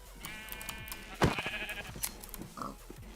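A Minecraft sheep lets out a sharp bleat when struck, a single loud cry amid clicking game noises and a few fainter sounds afterward.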